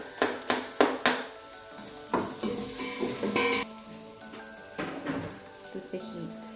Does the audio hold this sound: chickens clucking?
no